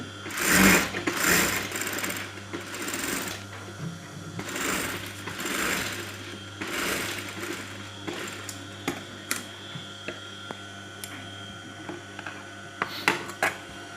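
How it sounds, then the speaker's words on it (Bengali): An electric sewing machine stitches a band collar on a kameez in several runs of rapid whirring and clatter, separated by short pauses and light handling noises, close and fairly quiet. "আমি মেশিনে সেলাই করে দেব"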